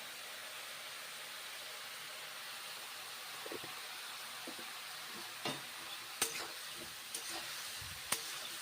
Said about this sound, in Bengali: ভেজে নিচ্ছি মাশরুম